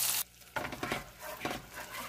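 A whisk works flour and beef broth into a roux in a pan, giving quiet, close, rhythmic scraping and stirring bursts with a faint sizzle underneath.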